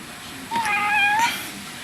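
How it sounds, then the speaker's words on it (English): A house cat meows once, a clear, rising-and-falling plaintive call in a quiet room, close and fairly loud, lasting under a second. "Yes, you do hear the cat. The cat wants attention at the most inappropriate time."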